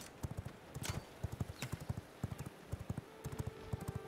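Horse hooves clip-clop in the video game V Rising, a brisk steady trot of close hoofbeats with no talk over them.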